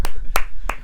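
Three sharp, separate hand claps from a podcast host, evenly spaced and close to the microphone, with brief quiet between them.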